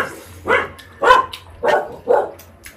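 A dog barks four times in a steady rhythm, close and fairly loud, with a faint low hum underneath.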